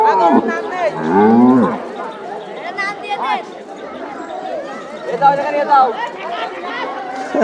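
A large cow in a rural Bangladeshi village lows loudly and close by in a long, drawn-out moo, with fainter lowing later amid people chatting nearby.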